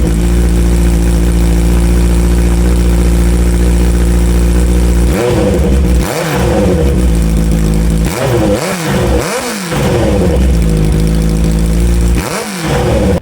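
A Honda CBR650R with a loud, baffle-less exhaust idles with a deep, steady burble, then a handful of sharp throttle blips crack out in quick succession, close and very loud.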